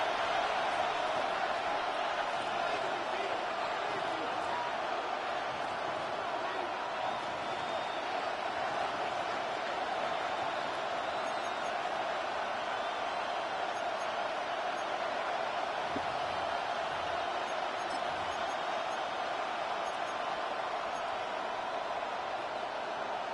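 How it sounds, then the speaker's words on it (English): A stadium crowd roars in an EA Sports football video game late in the fourth quarter, a steady, faint, broadband wash of cheering that holds constant throughout. "This crowd trying to be a factor, getting very loud now."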